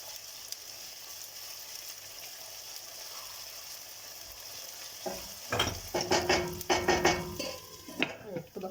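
Okra dish with half a tablespoon of pepper paste cooking in a pot, a soft steady sizzle building into clattering stirring and scraping of a utensil against the pot in the second half.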